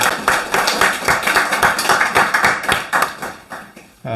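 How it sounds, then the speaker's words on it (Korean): A church congregation bursts into warm applause welcoming a soon-to-be-married couple during Sunday worship, dense clapping from many hands that fades out near the end. "우리 박수로 두 분을 환영해 주시면 감사하겠습니다."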